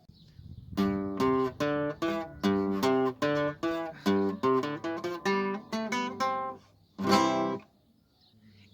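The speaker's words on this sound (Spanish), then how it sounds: "es la guitarra y suena así." A guitar plays a steady run of plucked notes and chords in an even rhythm, ending with a strummed chord that rings briefly, heard alone.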